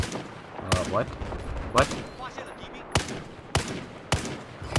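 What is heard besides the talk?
gunfire in the video game Battlefield 4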